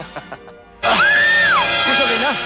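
A woman lets out a long, loud, sustained scream that rises and then trails off, close and intense, following a few faint knocks, with a rising wail against background music.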